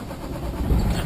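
A Panther expediter truck rolls past nearby, its engine a steady low rumble that swells slightly as it passes, with no voices.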